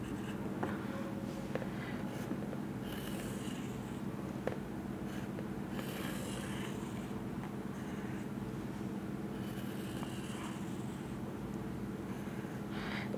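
Pen or pencil scratching across paper while math is written out by hand, a soft steady scribbling in short strokes over a constant low hum, fairly close and quiet.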